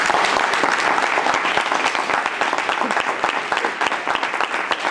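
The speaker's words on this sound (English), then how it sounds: "Can we give her another round of applause?" A room full of people claps steadily at a congressional briefing, a dense, even wash of hand claps that holds loud and continuous from start to finish with no voices.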